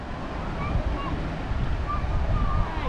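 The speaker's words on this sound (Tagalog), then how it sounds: "So ang lakas na ng alon" Strong ocean waves wash steadily onto Tondol Beach on Panacalan Island in Anda, Pangasinan, a continuous rushing surf roar mixed with gusty wind buffeting the microphone, with no clear voices.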